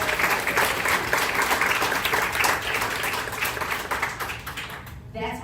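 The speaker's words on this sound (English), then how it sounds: "Can we have a round of applause?" An audience at a talk breaks into a sustained round of applause, a dense, steady patter of many hands clapping that fades out at the end, when a voice briefly comes in.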